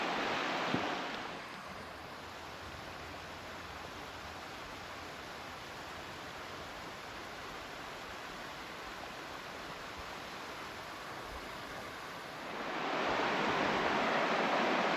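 Steady rushing water from a small waterfall in a mountain trout creek, continuous and fairly close, growing louder toward the end, with no talk over it.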